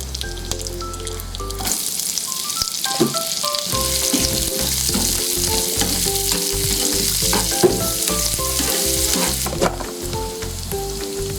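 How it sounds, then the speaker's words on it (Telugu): Thinly sliced onions sizzle steadily in hot oil for a mint leaf biryani, a loud, continuous crackle with a light musical tune running underneath and no voices. "ఇందులో సన్నగా కట్ చేసి పెట్టుకున్న ఆనియన్స్ వేసుకోవాలి"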